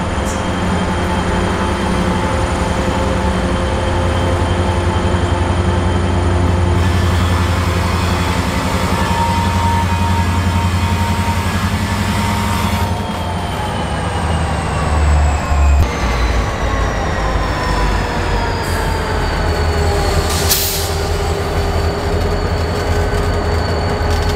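An EMD diesel locomotive winds up in Akron, Ohio, its loud, rumbling engine drone rising in pitch alongside rolling train noise and a squealing, sliding whine, heard up close and continuous for the whole stretch.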